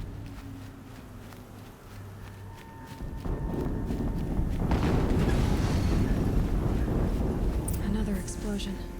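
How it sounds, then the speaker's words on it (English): Explosions in the game Horizon Zero Dawn, a low rumbling blast swelling midway and rolling on loudly, with scattered impacts and clatter over a steady background. "Another explosion."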